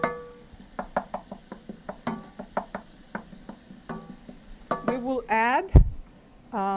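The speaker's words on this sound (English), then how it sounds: "now that they are cooking nicely, you can hear the sizzle" Garlic sizzles in a pan under a series of sharp stirring taps and clicks, and a brief voice sounds near the end.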